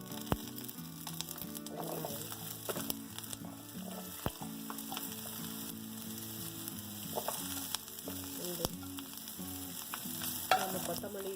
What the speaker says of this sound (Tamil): கொஞ்சமாக எண்ணெய் ஊற்றி கொஞ்சமாக லைட்டாக வதக்கிக்கலாம்.